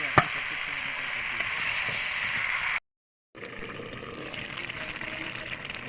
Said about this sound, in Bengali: লাউটা কষানো হয়েছে